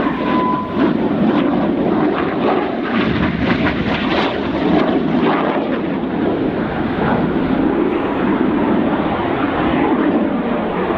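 Red Arrows display jets crossing head-on in opposing tight turns during the carousel manoeuvre at an air show, a loud, continuous roar of jet engines that swells and rushes past without pause.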